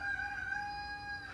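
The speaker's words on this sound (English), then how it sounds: "that's the rooster saying hi" A rooster crows once in a long, drawn-out cock-a-doodle-doo, clear and fairly close, with no voices.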